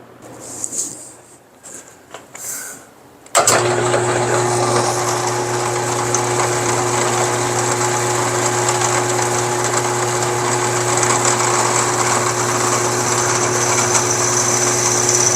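A steady high-pitched motor whine starts abruptly after a few soft clicks and runs continuously, close and loud, like a drill boring through metal.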